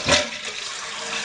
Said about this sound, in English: So what does a flush look like without the toilet tank lid on?